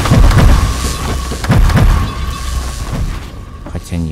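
Rocket launchers fire in Zombie Battlefield Survivors, a string of loud, close booms thudding at irregular intervals over a busy game soundscape, with a few sharper hits near the end.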